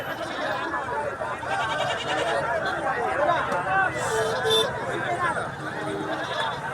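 Goats bleat now and then amid the busy chatter of the crowded Kashti goat and sheep market in India, with people talking nearby.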